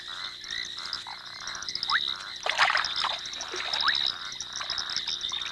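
Frogs croaking at a pond, a dense chorus of repeated clicking and trilling calls with some rising chirps, fairly close and steady.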